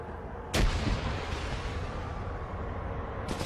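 Gunfire in the Arma 3 video game: one sharp, loud report, followed by a rumbling echo over a dense, noisy battlefield backdrop, with a second shot starting at the very end.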